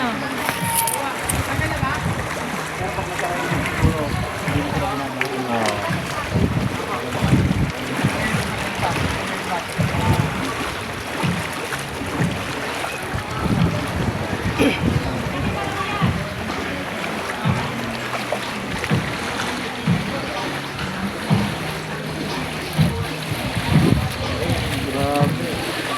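Boat moving through flood water in a submerged neighborhood after a typhoon and monsoon rains, with continuous splashing and wind noise under frequent nearby Tagalog talk.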